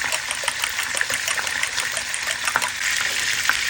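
Beaten egg seasoned with salt, soy sauce and fish sauce is poured into hot oil for a tofu omelette, giving a dense, steady sizzle with quick crackling pops throughout.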